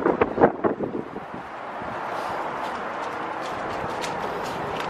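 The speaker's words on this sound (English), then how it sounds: "It's too windy." Steady broadband wind rush buffets the microphone, rising after a few faint clopping sounds and lasting to the end.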